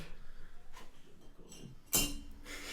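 Shards of smashed drinking glass being gathered up, heard as faint scattered clinks followed by one sharp, bright crash of glass near the end, alone with no voices.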